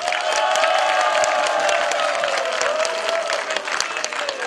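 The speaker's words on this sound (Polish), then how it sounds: "A państwa proszę o gorące brawa dla jurorów." Steady, dense audience applause for the jury at a senior citizens' singing contest, sustained at an even level throughout, with a few faint cheers mixed in and no speech.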